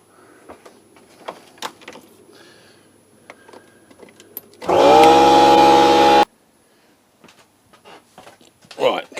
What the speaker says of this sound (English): compressor's up to pressure